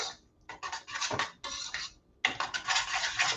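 A utensil stirs garlic into a cheese sauce in a pot, making bursts of scraping and clinking against the metal, separated by short pauses.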